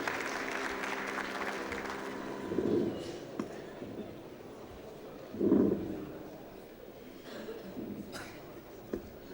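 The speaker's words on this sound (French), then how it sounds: "Toujours sous vos applaudissements, s'il vous plaît." An audience at a regional cultural day in Fes claps for a speaker, with moderate clapping that swells briefly twice amid a murmuring crowd.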